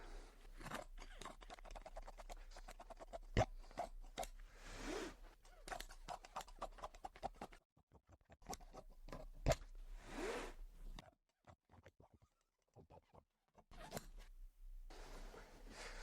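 Scissors cut upholstery fabric for a footstool, with bursts of crisp snipping and rustling cloth separated by brief silent gaps, close and fairly quiet, no voices.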